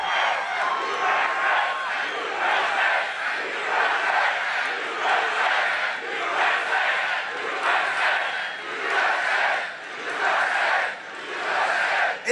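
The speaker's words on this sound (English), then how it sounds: "This is a big, big, beautiful crowd." Large outdoor crowd at a Donald Trump rally in Butler, Pennsylvania, a dense continuous roar of cheering and shouting voices that swells and dips steadily throughout.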